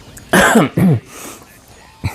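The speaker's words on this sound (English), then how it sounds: "sorry, I need to clear my throat a little bit." Two loud, close throat clearings in quick succession, followed by a brief quieter rasp after a short pause.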